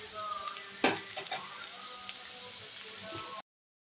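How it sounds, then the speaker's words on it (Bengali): Potatoes frying in a pan over medium gas while being stirred for a gima shak dish, a steady close sizzle with a sharp clatter near the start, stopping abruptly before the end. "আলুগুলো এই যে দেখুন কীভাবে ভাজা হচ্ছে"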